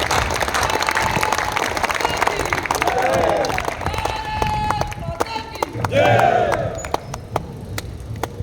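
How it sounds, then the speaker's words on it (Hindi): Audience applause and cheering rise at a Hindi poetry gathering (kavi sammelan), a dense crowd clapping steadily throughout, swelling in two waves with a presenter's voice faintly over it. "जोरदार ताली के साथ"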